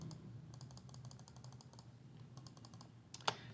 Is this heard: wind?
no